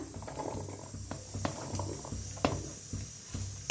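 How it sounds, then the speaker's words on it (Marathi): Mixer grinder grinding whole spices (cardamom, black pepper, cumin, coriander seeds), a quiet rattling, ratcheting whir with hard seeds clicking against the jar in quick irregular bursts. "आता मिक्सरला लावून घेऊया पुन्हा"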